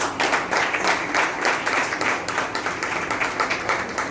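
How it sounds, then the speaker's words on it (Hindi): Audience at a catechism teachers' training event applauding steadily, many hands clapping in a dense, even stream that holds for several seconds without talk. "तो एक दफ़ा आप सब तालियां बजाएं अपने लिए।"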